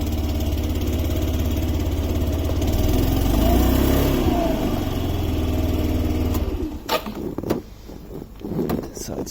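A 2002 Yamaha Majesty 125 scooter idling steadily just after a cold start, a loud, even mid-pitched engine hum close by that drops away near the end as clicks and handling noises follow.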